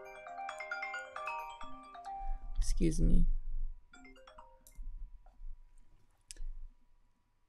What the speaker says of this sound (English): The phone always rings when you don't need it.